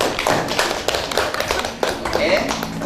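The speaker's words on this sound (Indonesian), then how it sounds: "kita beri tepuk tangan." A classroom group claps briefly after a presentation, with scattered close hand claps mixed with talking voices.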